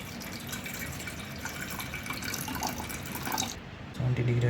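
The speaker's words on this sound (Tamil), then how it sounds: "முன்னாடி தண்ணி ஊற்றணும்ல." Water pours and trickles steadily into an electric kettle indoors, fairly faint, and ends with a louder knock and thump as the kettle is handled.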